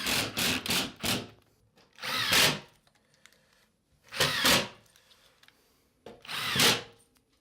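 A power drill drives screws into wood framing during a bathroom remodel, with four separate bursts of whirring, each lasting under a second, separated by pauses and heard close up with no talk.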